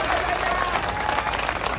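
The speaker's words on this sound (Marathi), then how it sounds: "जोरदार टाळ्या वाजल्या पाहिजेत" A crowd at a bodybuilding competition applauds in a dense, continuous wash of clapping that holds steady for a couple of seconds.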